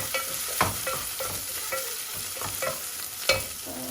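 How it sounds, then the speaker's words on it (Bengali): Garlic tossed into dal frying in a pan gives a steady sizzle, broken by repeated scraping stirs that come in a regular rhythm, with a sharper clack near the end and no voices. "এখন আমি রসুন দিলাম"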